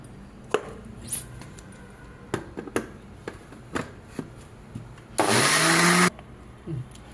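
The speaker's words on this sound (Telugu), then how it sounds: "ఒకసారి మిక్సీ పట్టేయాలి." Scattered clicks and knocks of a jar being handled, then a mixer grinder roars briefly for about a second, coarsely grinding spices for gongura podi, before stopping.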